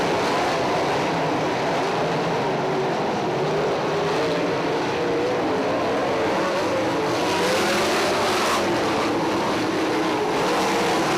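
410 nonwing sprint cars race at Lawrenceburg Speedway, a dense, steady engine roar filling the whole stretch, loud and continuous with slight swells as the pack passes.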